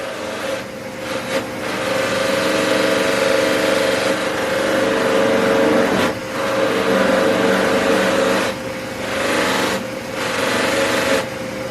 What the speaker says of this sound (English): And now we're going to go around our bowl and wax our bowl.